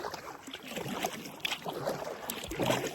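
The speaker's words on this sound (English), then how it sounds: "I'll keep paddling" Sea kayak paddled across open water in Backstairs Passage on the way to Kangaroo Island, with soft rhythmic water swishes and splashes over steady wind noise, close and moderately loud, no voices.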